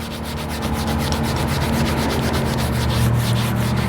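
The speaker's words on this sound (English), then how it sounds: "I'll grab my brush, close it, and we're gonna agitate the seatbelt" A stiff detailing brush scrubs a car seatbelt in quick, rhythmic back-and-forth strokes, a continuous close-up rubbing and scratching sound with no talking.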